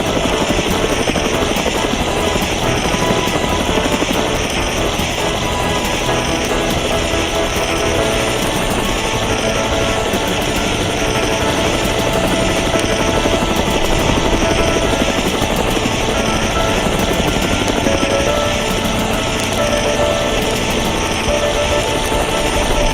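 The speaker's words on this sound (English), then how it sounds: "The helicopter is the best tool when our fire brigade deals with forest fires." A fire brigade helicopter flies over a forest fire, its rotor and engine a loud, steady, unbroken roar that persists for over twenty seconds with no speech.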